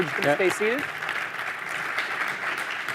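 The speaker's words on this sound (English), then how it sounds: "Hey, round of applause for our panelists." Applause from a seated conference audience for a financial services panel, a steady wash of clapping that follows a brief spoken phrase and continues at moderate level to the end.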